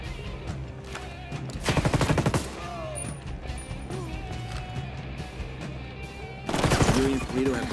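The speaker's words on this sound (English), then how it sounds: "The shotgun hits pretty hard." Shotgun blasts in the video game Ghost Recon: Wildlands, played on extreme difficulty: two heavy bursts of rapid booming fire, loud and close, with steady combat noise between them.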